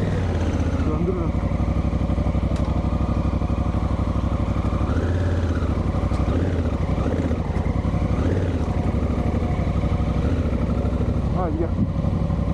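A motorcycle engine idles steadily and close by in a rural setting at Yeniçiftlik, Silivri, its low rumble running the whole time under people talking.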